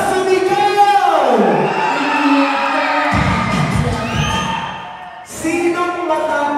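Guests at a 60th birthday party shout and cheer together in loud, overlapping whoops and cries that swell, dip briefly, then rise again.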